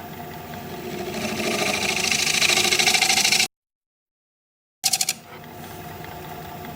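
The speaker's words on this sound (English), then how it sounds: "I'm going to scrape across the bottom a little bit more, see if I can get that to go away." A wood lathe spins as a scraper works across the bottom of a spalted maple bowl, giving a steady whirring rasp that breaks off into silence, then resumes with a brief rattle.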